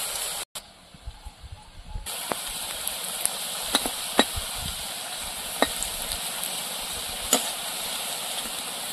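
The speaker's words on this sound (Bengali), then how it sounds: "লাল লাল করে ভেজে নেবো বড়াগুলো।" Kohlrabi fritters fry in hot oil with a steady soft sizzle, broken by a few sharp clicks and taps of a utensil in the pan.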